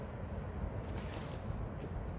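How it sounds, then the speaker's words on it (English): Wind blows across a bush campsite near a highway as a low, steady, faint rumble of gusts buffeting the microphone, with no voices. "It's quiet, well, a bit windy."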